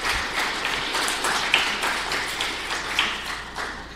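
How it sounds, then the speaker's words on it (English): Audience applause at a Python meetup talk, a steady patter of many hands clapping with a few sharper claps standing out, moderately loud and continuous throughout. "A round of applause, please."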